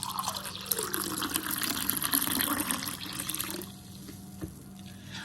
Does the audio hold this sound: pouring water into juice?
yes